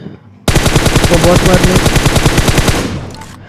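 Automatic gunfire in the video game PUBG, heard as one loud, rapid sustained burst of machine-gun shots lasting about two and a half seconds before fading, close and harsh with no talking.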